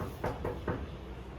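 Three quick knocks land on a door in a house, close and moderately loud, with no voices.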